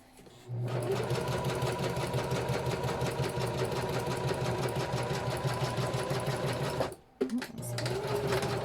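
A sewing machine stitches a vinyl zipper pouch in a steady, close, continuous run, pausing briefly near the end before starting again.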